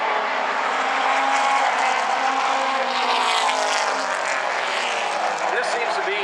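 Late model race cars roaring around South Sound Speedway, a dense steady engine drone of the whole field passing at speed, with an announcer talking over it.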